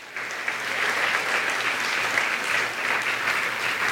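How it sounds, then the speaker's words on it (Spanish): A church congregation claps together during a Spanish-language worship service, a dense sustained applause that starts abruptly and holds steady throughout, with no talking over it. "Demos un aplauso fuerte a la palabra de Dios."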